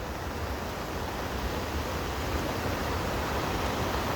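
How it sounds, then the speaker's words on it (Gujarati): Rainwater rushes fast through a village street after heavy rain, a dense, steady, loud roar of flowing water filling the whole stretch with no talk. "તમને બતાવું જુઓ આ પાણી કઈ રીતના આવે છે, કેટલી સ્પીડમાં આવી રહ્યું છે ને એ જુઓ"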